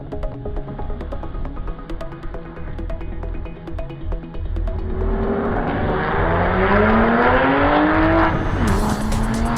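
Race cars on the Indianapolis circuit run together in a steady, loud engine roar, with rising engine pitch sweeps as they accelerate out of the paddock onto the track.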